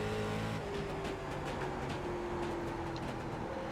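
Race car engine from the NASCAR iRacing Late Model Series game at Hickory Motor Speedway, a steady loud droning note that holds and slowly shifts pitch throughout, with no voices over it.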